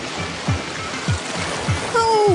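Wake waves from a speeding water taxi in Venice wash and splash in repeated surges about every half second, fairly close, ending with a sharper slap of water and a brief whistle-like tone.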